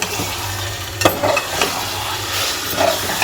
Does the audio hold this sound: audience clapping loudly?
no